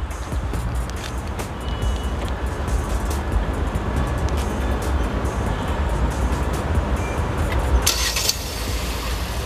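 A Kia Sonet 2020 engine started by remote key settles into a steady low idle rumble, close by, with a brief brighter burst near the end and no talking.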